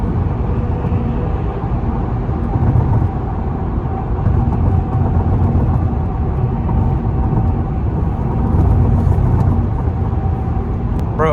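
A 2006 Acura TL 3.2 drives along a road, its engine and tire roar forming a steady, continuous cabin rumble with no talking.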